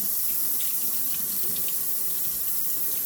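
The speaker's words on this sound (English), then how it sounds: "turn on the cold water" Cold water runs steadily from a kitchen tap into the sink while a whole chicken is rinsed, a close, continuous hissing splash at an even level.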